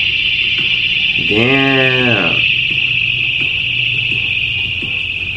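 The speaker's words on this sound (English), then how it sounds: "the victim used a handheld alarm to successfully scare the attackers off and bring others from around the area" A handheld personal alarm shrills continuously at a high, piercing pitch throughout, with a brief bleating, wavering cry overlapping it early on and a short spoken word.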